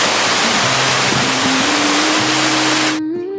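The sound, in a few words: small waterfall on Keu Khola, East Sikkim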